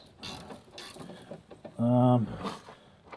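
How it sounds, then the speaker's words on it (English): A 14 mm ratchet wrench working during a Honda Pilot brake job makes brief mechanical clicks, close by and mixed with a person talking and a short tonal hum. "It's got the little ratchet piece, so it makes that sound."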